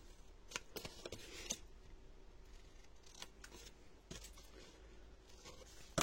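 Scissors snip through paper to make a bevelled cut, giving a few quiet, crisp clips and crinkles close by against a low background hiss.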